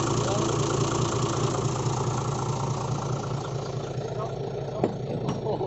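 A Hino truck's 195 hp engine idling with a steady, even mechanical rumble close by, and someone talking over it with a couple of short knocks near the end.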